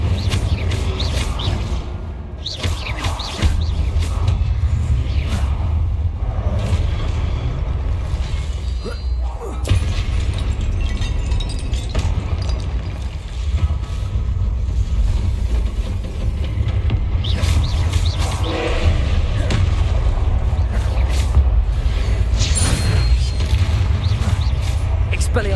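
Combat spells Confringo and Incendio fire repeatedly in the video game Hogwarts Legacy, with bursts of booms, whooshes and crashing impacts over a dense, continuous game soundscape.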